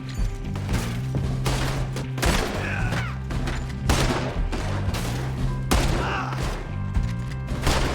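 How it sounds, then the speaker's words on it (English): Rapid gunfire volleys from a Red Dead Redemption 2 shootout, loud and close, with repeated bursts and thuds layered over a steady low in-game music drone across the whole stretch. "They're shooting right at you!"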